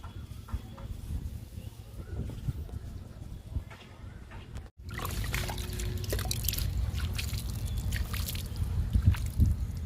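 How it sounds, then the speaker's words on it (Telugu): A newly planted verbena gets watered, a continuous hissing trickle of water over soil that grows louder and fuller about halfway through, with no talking. "వాటర్ ఇస్తున్నానండి"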